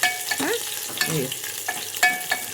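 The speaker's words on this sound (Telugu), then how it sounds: "ఇట్లా వేగాలి కొంచెం కలర్ మారాలి" Green chillies fry in a pan with a close, constant sizzle, punctuated by several loud scraping strokes of a spatula stirring them.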